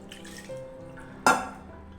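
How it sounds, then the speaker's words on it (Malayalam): Water is poured into a pot of curry, a short splashing gush that starts abruptly and fades, with a faint clink of the pot before it and no talk. "വെള്ളം ഒഴിച്ചെടുക്കുന്നുണ്ട്. കുറച്ച് വെള്ളം, കുറച്ച് കറി."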